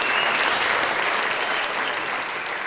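An audience claps warmly and steadily for a double bass music teacher at a music workshop event. The dense applause holds for a few seconds and then eases slightly.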